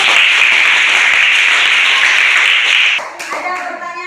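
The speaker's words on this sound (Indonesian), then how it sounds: "Tepuk Dok. tangan dulu." Schoolchildren in a classroom clap their hands together in a loud, bright, dense burst for about three seconds, then it stops abruptly, leaving a voice and a few stray claps.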